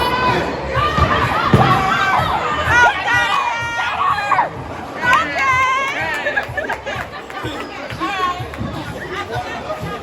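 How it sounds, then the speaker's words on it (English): Cousins scream and cheer at a bowling alley, a loud, close burst of excited shouting and overlapping voices that rises and falls over about ten seconds with a crowd babble underneath. "You're already screaming so loud."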